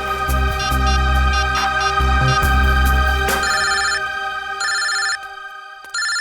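Telephone ringing indoors with a loud electronic ringtone: repeated bursts of bright trilling tones, first mixed with heavy low music and then standing nearly alone in short, evenly spaced rings.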